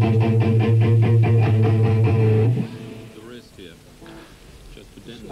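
Guitar played with the strings pressed down by part of the hand, a loud steady run of repeated chords lasting about two and a half seconds before it cuts off and only quiet room noise remains.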